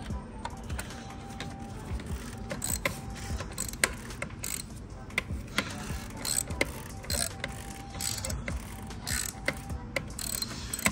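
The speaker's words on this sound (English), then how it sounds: "Just gonna tighten it, guys," Ratchet tightening a new oil filter on a Vauxhall Corsa, a close series of rapid clicking pawl strokes in irregular bursts with light metallic handling between them.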